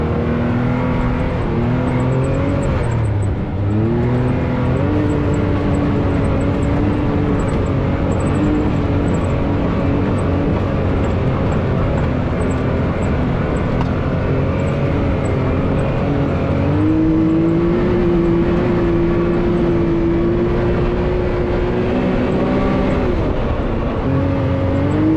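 A 2021 Can-Am X3 DS 64-inch Turbo RR two-seater side-by-side tears across the Dumont Dunes, its loud, close engine droning continuously with repeated throttle swells and revs and no talk over it.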